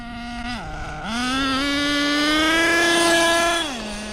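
An HPI Savage RC car with a 3-speed transmission howls at top speed, a steady high-pitched motor whine that dips briefly, climbs and holds, then drops off near the end.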